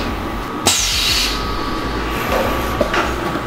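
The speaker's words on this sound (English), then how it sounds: "Now our cyan is coming over and it's going to flash." An automatic screen printing press indexes around and flash cures a cyan layer over a white base in a CMYK print run, giving a steady mechanical hum with a sharp clunk near the start and another later, no voices.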